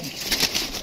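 Pigeons, kept birds in cold weather, give a brief soft cooing sound, faint and close, lasting under a second.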